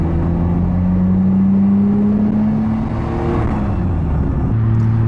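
A Nissan Skyline R34 pulls hard in second gear, its engine note rising steadily and loudly from inside the car, easing briefly, then settling at a steady drone. No one speaks.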